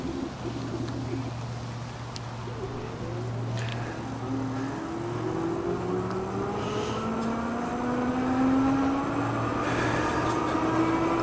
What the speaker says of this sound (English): the motor is nice and quiet as we accelerate up the hill here